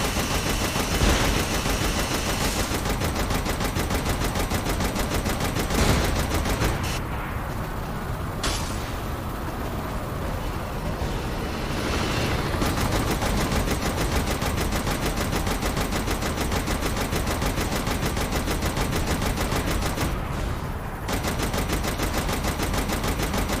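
Turret machine guns in Saints Row The Third hammer out dense, continuous automatic fire, close and loud. A few short lulls break the nearly unbroken barrage.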